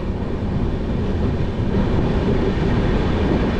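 The Kanchan Kanya Express runs through Chapramari forest, where trains keep to a set speed for elephants, as a steady, loud, broadband rumble of carriages rolling on the rails with no break or pause.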